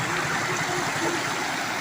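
Water rushes steadily over the spillway of an overflowing village dam in Gujarat, a constant broad hiss and roar with no voices.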